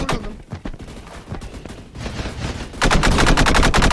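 Rapid automatic gunfire rattles in the Roblox shooter Energy Assault, sparse shots at first building into a dense, loud continuous burst near the end, with no talking over it.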